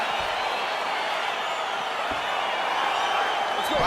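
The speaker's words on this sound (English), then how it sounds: "crowd getting excited as this fight gets underway" Arena crowd in the EA Sports UFC 4 fighting game gives a steady, continuous roar as a bout gets underway, a dense wash of cheering that holds at an even level for the whole stretch, rising slightly at the end.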